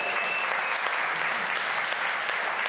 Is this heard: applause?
yes